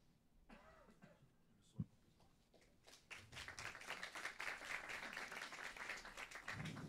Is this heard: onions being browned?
no